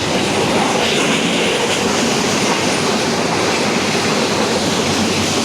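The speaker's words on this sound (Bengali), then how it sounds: "এই যে এখন ট্রেনের পুরো মাথাটাই ঘুরতেছে" A train runs loudly on the rails while curving, heard from inside near Sreemangal, with dense continuous rumble and clattering wheels and a faint squeal, steady throughout and free of talk.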